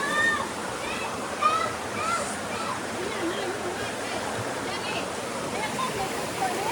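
Rainforest creek at Finch Hatton Gorge with water rushing steadily in a broad, constant wash, small splashes and faint children's voices mixed in over the flow.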